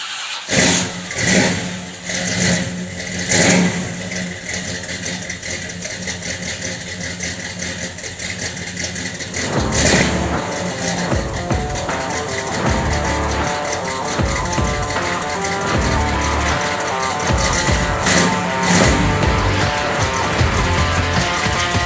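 A Chevy pickup truck engine with a faulty lifter cranks and catches, then settles into a loud, steady idle with a rough mechanical rattle, close by and continuous.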